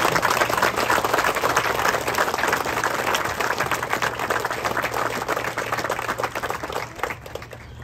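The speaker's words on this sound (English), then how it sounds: "we need to give a big round of applause and a thank you to Mr. Rowe" Steady, dense applause from a crowd at a groundbreaking ceremony, many hands clapping continuously and loudly, tapering slightly at the end.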